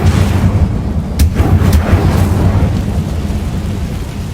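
Incendio fire spell cast in Hogwarts Legacy, a loud roaring whoosh of flame with a dense low rumble and a few crackling bursts, sustained throughout.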